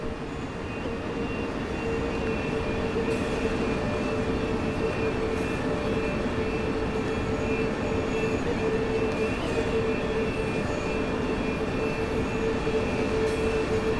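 MRCE 187 locomotive hauling freight on the Köln-Aachen line in Train Sim World 3, a steady, loud rumbling drone with faint tonal hum that carries on unbroken throughout, with no talk.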